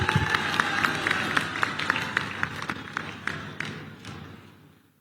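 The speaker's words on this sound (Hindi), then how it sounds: "हमारे पूर्व सैनिकों के अभिनंदन में भी तालियां बजाकर एक बार स्वागत किया जाना चाहिए मेरे दोस्तों" A large crowd at an outdoor political rally in Odisha applauds former soldiers with loud, dense clapping and rhythmic, beat-like claps, keeping up for several seconds before fading toward the end.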